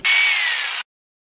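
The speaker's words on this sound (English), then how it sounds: "So how do you carve a giant pumpkin? With power tools, of course." A loud high-pitched power tool carving a giant pumpkin whines steadily for under a second, then stops sharply into silence.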